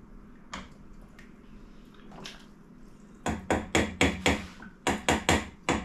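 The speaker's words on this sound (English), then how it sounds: "Give it another stir real quick." Venison and vegetable soup stirred in a pot, with a few scattered knocks and then a quick series of about ten loud, close, rhythmic thumps and scrapes.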